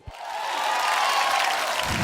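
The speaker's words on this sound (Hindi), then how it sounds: "जोरदार तालियां हो जाएं उन दोनों के लिए।" Audience applause for two performers at a village fair stage show, a steady broadband wash of clapping that swells quickly and holds loud and even throughout.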